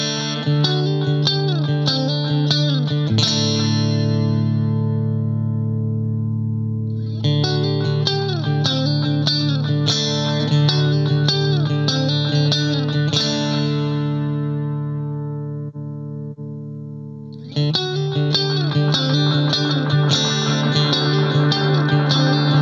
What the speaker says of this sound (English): Next up, we've got the tape delay.